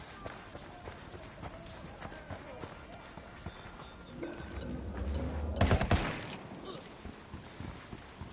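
Gunfire in the Ghost Recon video game breaks out as a loud, dense burst around the middle, with sparse shots and shouting voices before and after, all over steady background game noise.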